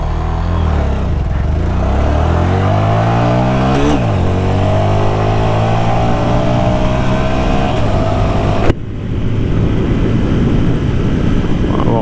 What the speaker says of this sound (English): we got to do a 0 to 60 run